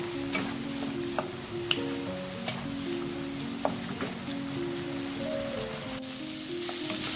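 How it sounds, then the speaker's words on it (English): Carrots simmer in a pot of salted water for a vegetarian carrot and dal kootu, giving a steady bubbling hiss with scattered spoon clinks and light stirring scrapes, close and continuous without talk. "and stir the salt in"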